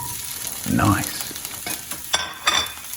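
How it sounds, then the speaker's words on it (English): Food sizzles and hisses as it fries in a pan, with a steady crackle throughout, a brief louder stirring scrape and a couple of sharp clinks near the end. "You hear that sizzle?"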